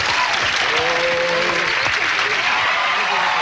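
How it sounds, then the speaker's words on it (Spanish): Loud, dense applause from an audience at a live game-show event, steady throughout with a voice talking over it. "vamos a llamar con el aplauso fuerte de ustedes a Rubén."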